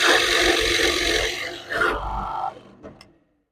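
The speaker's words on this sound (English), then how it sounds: "I'm going to drill that hole." A Forstner bit bores a hole into wood with a close, raspy grinding that fades out and stops after about three seconds.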